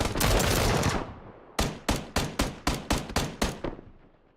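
Gunfire in PUBG, the battle royale shooter: a sustained automatic burst, followed by a rapid series of about nine evenly spaced single shots, loud and punchy, each with a short decaying tail.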